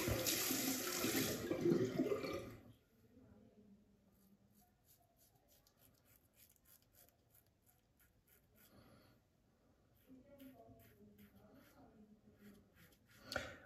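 Tap water runs briefly into a sink while rehydrating shaving lather, a loud rushing burst at the start that cuts off into quiet, followed by faint scattered handling sounds.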